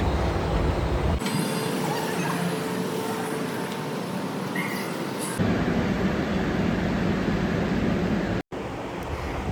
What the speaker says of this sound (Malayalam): ചിറ്റയുടെ കൈ പിടിച്ച് നന്ദിക്കുട്ടൻ ട്രെയിൻ വരുന്നത് നോക്കി നിന്നു